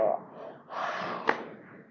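A voice imitates a yawn, a close, drawn-out breathy exhale that swells and ends with a short sharp catch of breath, faint and alone.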